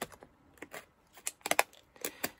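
Decorative scissors cut through dry paper for handmade vintage-style postcards, giving a string of quiet, crisp snips and clicks at an uneven pace, with no talking.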